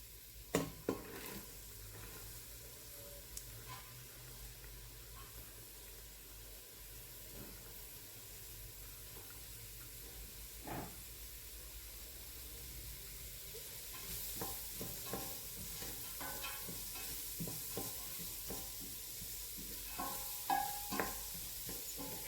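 Vegetables for a shrimp and vegetable soup fry in olive oil with a low, steady sizzle. Scattered spoon scrapes and knocks sound up close, growing busier and slightly louder toward the end, with no talking.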